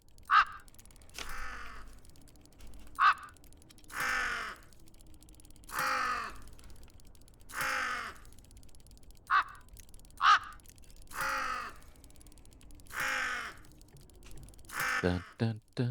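Crow caws from the video game Tick Tock, a repeating series of about a dozen separate harsh calls spaced a second or two apart, clear and close, with faint talk underneath.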